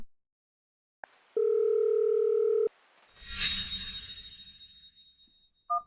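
A telephone call being placed, one steady electronic ringback tone lasting about a second, then a louder crackling burst that fades, and a short beep at the end, fairly quiet and without speech.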